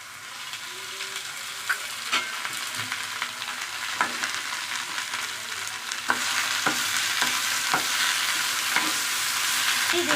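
Okra, brinjal and green chillies roast in a spoonful of oil in a pan, giving a steady, close sizzle broken by repeated sharp scrapes and clicks of a spoon stirring, with no talking.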